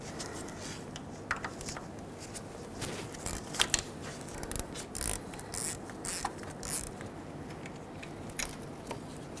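A ratchet backing a 10mm bolt off the starter of a 2011-2016 Ford F-350 with the 6.2L V8: quiet, irregular clicking and metallic ticks, close by, with some handling noise and no talk.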